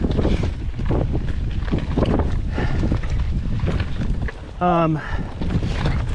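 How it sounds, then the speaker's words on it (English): Strong gusty wind buffets the microphone on a mountain bike ride aboard an Ibis Ripley, a loud continuous rumbling roar with a brief tonal whistle partway through. "Man, it is a windy one today."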